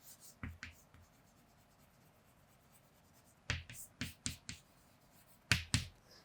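Chalk or marker strokes on a board: sharp scratchy taps in small clusters with pauses between, quiet and close, without speech.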